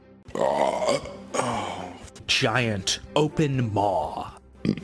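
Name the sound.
voice imitating a cave sound with a closed-mouth burp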